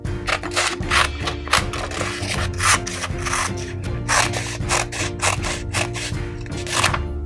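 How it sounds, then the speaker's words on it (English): Craft materials for miniature doll wigs being cut, close, busy snipping and rubbing with irregular bursts continuing throughout, steady in loudness, with no voice over it. "What we need to do is to cut everything that we have here."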